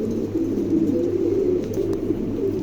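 A pair of large Shoukhin pigeons coo softly and continuously, a low steady murmur held close by with no talk over it.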